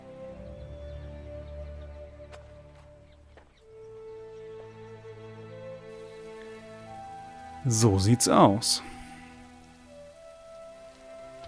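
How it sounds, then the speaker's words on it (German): Steady rain patters in the background of the video game Assassin's Creed III while someone speaks briefly, with a short burst of louder activity partway through. "Und jetzt regnet's auch noch."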